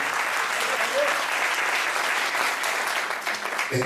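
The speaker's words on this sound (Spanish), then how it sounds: "Dale un aplauso al Señor." A church congregation breaks into sustained applause, a dense, steady wash of many hands clapping at close range, with no talk over it until it cuts off at the end.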